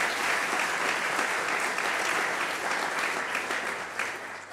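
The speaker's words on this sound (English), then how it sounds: "If you could give them a round of applause." A room full of people at an evening rail industry address applauds, dense continuous clapping that stays loud and even before thinning slightly at the end.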